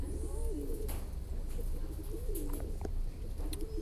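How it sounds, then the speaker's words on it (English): Pigeons coo in repeated low rolling phrases, a few calls spaced across a few seconds, close by against a constant noisy outdoor background with no speech. "Pigeons."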